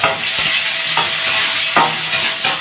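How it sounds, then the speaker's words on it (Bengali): Chopped tomato stirred into hot oil with fried onions for a cabbage and hilsa fish head curry, giving a steady sizzle broken by a few sharp scraping stirs of the spatula, close and alone. "পেঁয়াজের সঙ্গে তেলে একটু নেড়ে ফেলে নিচ্ছি টমেটোটা"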